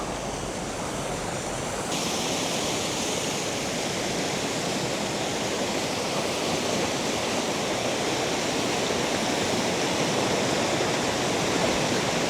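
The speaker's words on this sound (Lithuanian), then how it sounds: "Ir va taip zigzagų varo vanduo" Steady, loud rush of a zigzagging river in Jurbarkas district, Lithuania, a dense continuous roar with no pauses or voices.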